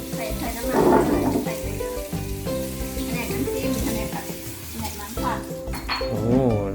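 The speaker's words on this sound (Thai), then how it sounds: "เราจะบรรเลงการทอดกันแล้วนะครับ" Salmon belly sizzles and crackles in hot oil in a steady frying hiss, with occasional clinks of pans and utensils and a voice murmuring in the background.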